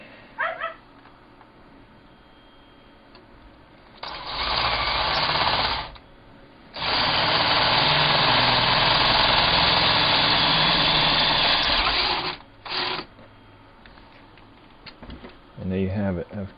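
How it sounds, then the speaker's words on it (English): A power drill fitted with a 1/4 inch bit bores a hole in plate material for a cell chamber, whirring loudly in two long bursts separated by pauses, followed by a brief short run and some quieter handling noise. "Now I will finish out the diameter of that hole with the 1/4 inch drill bit."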